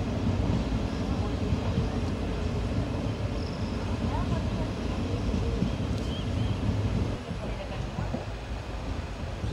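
Steady low rumble and rushing wind of the PDY MS Express running at high speed, a continuous loud roar heard from inside the train that eases slightly near the end.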